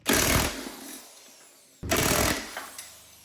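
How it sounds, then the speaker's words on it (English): Impact wrench with a 15/16 socket zipping off the blade nut on a Cub Cadet Ultima ZTS1-50 zero-turn mower deck, two loud close rattling bursts separated by a short pause. "I'm going to use my impact with a 15/16 socket to zip that off"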